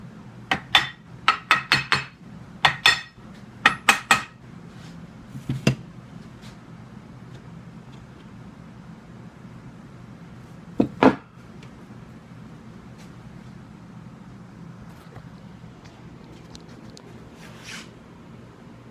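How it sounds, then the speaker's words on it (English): A chisel cutting a barrel channel into a wooden Brown Bess musket stock: clusters of sharp tapping strikes early on, then sparse isolated knocks over a quiet low hum, close and without speech. "everywhere where there's black, we just start chiseling out"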